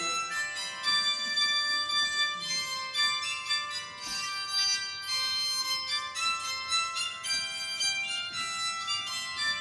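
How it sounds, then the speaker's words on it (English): A bowed psaltery plays a melody of sustained, bright, shimmering tones that overlap and ring into each other. The notes are clear and steady at moderate volume, with no voices. "So that's the sound of a bowed psaltery."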